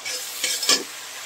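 Chilies hit a pan of cooking spices with a short, close sizzle, followed by a couple of quick stirring scrapes.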